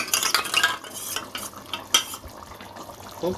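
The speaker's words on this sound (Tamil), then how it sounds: "இந்த கார்ன்ஃப்ளவரை ஒரு ட்ரிப் நல்லா மிக்ஸ் பண்ணிப்போம்" A spoon stirs a cornflour mixture into simmering beef bone paya soup in a pot, with repeated scraping and swishing strokes and a few light metallic clinks. No one speaks.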